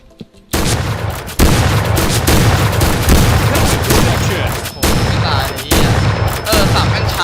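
Repeated loud blasts from a UTS-15 shotgun in the shooter game Point Blank, heavy booming shots at an irregular quick pace, close and punchy, with a voice talking faintly between them.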